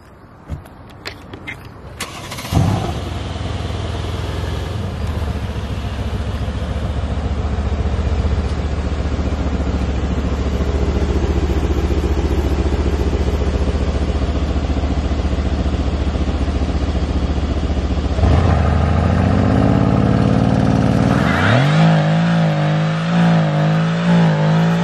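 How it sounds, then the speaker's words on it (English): Mercedes C63s AMG V8 sedan doing a burnout, engine holding a loud sustained roar with tire noise for a long stretch, then revving up and down in rising and falling sweeps near the end. "we can get on to do a burnout real quick"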